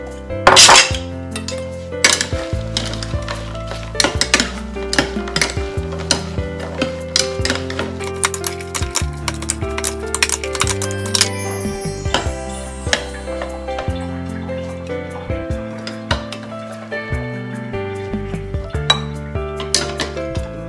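Salad of fresh kale and Swiss chard with boiled eggs shaken inside a covered container, giving a steady run of dense rattling clinks and knocks, fairly loud and close, with no talking.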